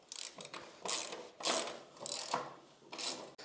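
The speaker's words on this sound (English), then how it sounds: "now we're going to tighten these bolts" Ratchet wrench tightening bolts on a BMW F900GS motorcycle rear rack mount, heard as several quick bursts of close clicking pawl strokes with short pauses between them.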